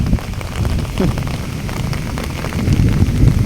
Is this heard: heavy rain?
yes